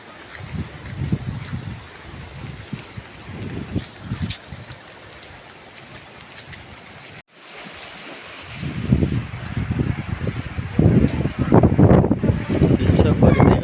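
Wind and rain from Cyclone Dana roar steadily across the clip, a broad rushing wash with gusty swells, loud and close to the microphone, under stretches of talk.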